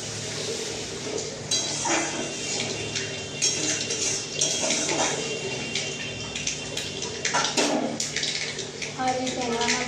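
Water is poured into a pan of tangra fish curry with spiced masala, a soft splashing wash of water running under a person talking.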